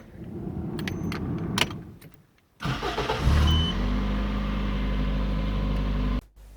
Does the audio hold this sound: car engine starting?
yes